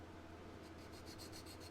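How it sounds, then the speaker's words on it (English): Quiet, continuous rasping from block sanding a scale model car body flat, a soft steady rub close by with no talk. "As you can see, we're just sanding away here."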